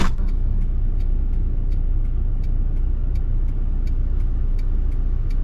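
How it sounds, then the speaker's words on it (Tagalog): A jeep drives past on the road on Fortune Island, its engine a steady mid-pitched rumble close by, with faint high ticking sounds over it and no speech. "Ayun o, jeep."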